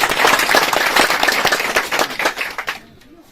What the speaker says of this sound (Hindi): जोरदार ताली से इनका स्वागत होना चाहिए